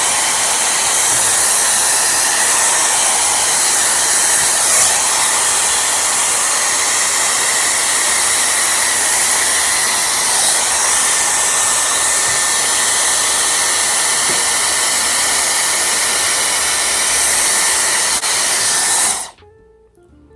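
A Dyson Airwrap hair styler blows through its round brush attachment with a loud, steady airy whoosh that holds for about nineteen seconds before cutting off abruptly.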